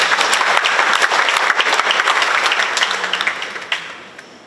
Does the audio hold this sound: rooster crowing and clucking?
no